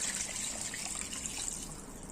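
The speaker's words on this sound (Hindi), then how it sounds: "ये तकरीबन मैंने इसमें 2 किलो पानी डाल दिया" Water, about 2 kg, is poured into a pot for goat trotter paya, a soft steady trickling splash heard briefly and at low level.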